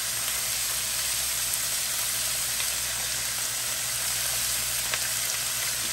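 Chicken thighs and onions sizzle steadily in a pan, a constant close hiss that carries on evenly without speech.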